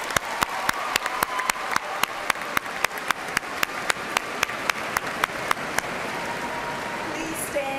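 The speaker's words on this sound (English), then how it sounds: "Round of applause for all those individuals." Applause at the EKU spring 2018 College of Health Sciences commencement ceremony: a steady, evenly spaced run of sharp claps over a low crowd murmur, thinning out after about six seconds.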